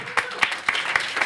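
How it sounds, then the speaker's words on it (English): Audience applause for a guest named Xavier, heard here as a handful of sharp, close claps landing in a steady, quick rhythm over a faint background. "Give Xavier a big round of applause."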